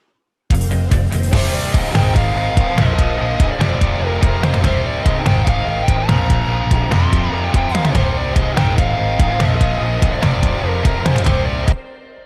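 A full, dense rock mix with punchy, booming sampled tom drum hits thudding through steadily under guitars and cymbals, continuous and loud until it cuts off near the end.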